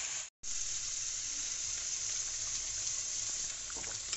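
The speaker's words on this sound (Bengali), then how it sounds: "ভালো করে একটু কষিয়ে নিতে হবে।" Boneless chicken for a curry sizzles steadily in a pan while being stir-fried, a continuous loud hiss with a brief dropout near the start and faint stirring scrapes toward the end.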